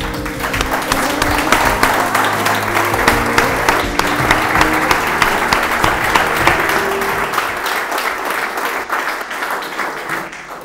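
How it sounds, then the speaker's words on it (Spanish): A crowd applauds steadily for about ten seconds, loud and dense, with music underneath, fading slightly near the end. "Un fuerte aplauso."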